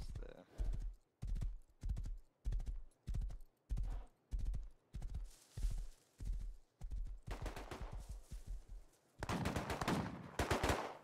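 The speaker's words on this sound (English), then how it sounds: "Holy bro, this shotgun's fucked." Shotgun blasts in the survival video game Rust, a long series of loud, sharp booming shots at a steady pace, some overlapping with other gunfire and noise toward the end.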